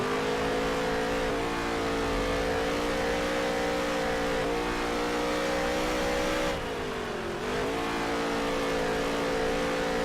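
Race cars on the Eldora dirt track in NASCAR Heat 3 drone at high revs in a loud, sustained engine roar, pitch dipping briefly as the car slows and then climbing back up, with no voices.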